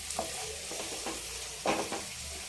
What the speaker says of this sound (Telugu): టమాటా గ్రేవీ బాగా ఉడికింది